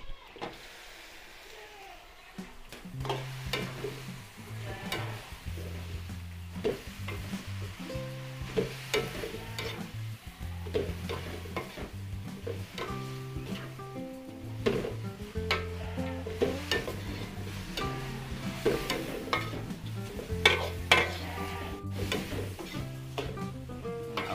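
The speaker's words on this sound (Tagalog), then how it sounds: "Tapos, ilalagay po natin dyan yung ating gulay. Ating stir fry." Vegetables stir-fried in a pan for Filipino pancit, a steady sizzle with repeated scraping and clattering of a utensil against the pan, busy and close throughout with a few brief knocks.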